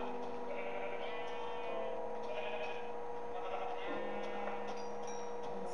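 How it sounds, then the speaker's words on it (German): Sheep in the Minecraft video game bleat repeatedly, several wavering baas from more than one animal over a steady electrical hum. "Hier sind doch viele Schafe."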